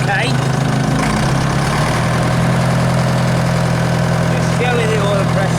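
A 1953 Nuffield tractor engine idles steadily nearby, a loud, continuous low rumble with a firm, even beat that holds without change throughout, recently started after standing and still running rough in places.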